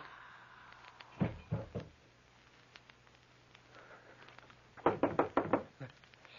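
Knocking on a door in an old-time radio drama: two quick bursts of three or four raps, the second group louder and more insistent, over faint background hiss.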